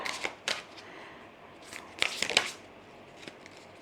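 Thick tarot cards being shuffled by hand, giving a few short papery riffles and flicks in bursts with brief pauses between, fairly close and quiet, with no talking.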